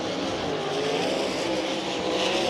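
USAC sprint car racing at speed through the turns of the red clay Bloomington Speedway dirt track, a continuous loud engine roar blending several cars, distant and steady without pauses.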